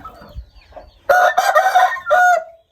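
A fighting rooster crows loudly nearby, a short broken call in two bursts after a moment of quiet.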